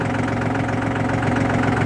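A walk-behind tractor engine idles at a steady, close, loud chug, its even low rumble and faint vibration unbroken and with no voices heard.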